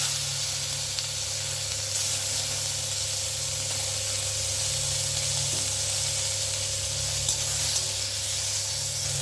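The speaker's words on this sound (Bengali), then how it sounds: "ওই তেলের মধ্যে আমি টমেটোটাও দিয়ে ভেজে নিচ্ছি" Tomato frying in oil gives off a dense, loud, continuous hiss and spatter, steady for the full stretch with only slight shifts in intensity, close by and alone without any voices.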